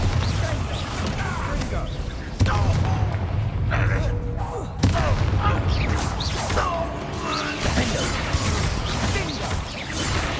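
Confringo and Bombarda spell blasts in the video game Hogwarts Legacy, loud explosive booms and crashing impacts over a dense combat soundscape, with a voice speaking over the action.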